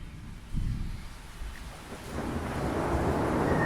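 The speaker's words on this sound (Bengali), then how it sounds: "খুব ঝড় বৃষ্টি আসছে" A low thunder rumble rolls in, then rain and wind build into a steady, swelling storm wash.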